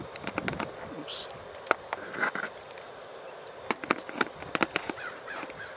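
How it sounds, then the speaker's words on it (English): American crows calling outdoors, sharp caws scattered across the clip, some in quick clusters as if from two birds, at moderate distance over a faint breezy background. "Oh, just heard an American crow."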